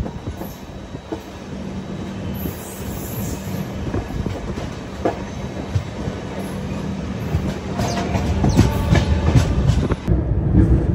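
Humsafar Express passenger train rolling along the rails, a continuous rumbling clatter with rhythmic wheel knocks and occasional metallic squeal, heard from on board and growing louder and rougher toward the end.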